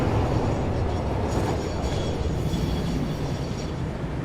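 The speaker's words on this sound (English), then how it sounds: "there's the original train" A train in the Satisfactory factory-building game rolls past with a steady loud rumble and clattering rail noise, a continuous mechanical drone with no voices.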